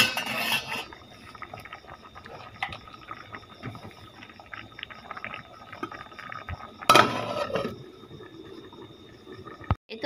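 A metal lid clanks onto a cooking pot of potato and egg curry, with a sharp clatter at the start, another clink midway and a final knock, separated by quiet kitchen rustling.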